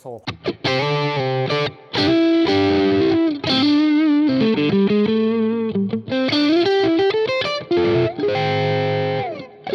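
A Cort G250SE electric guitar in selector position 2 plays a distorted riff with effects, bright sustained notes separated by short pauses, close and loud and heard alone.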